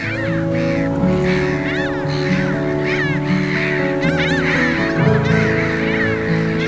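A dense flock of geese honking continuously at Chichester Harbour, many overlapping calls close by, loud and busy with no pauses.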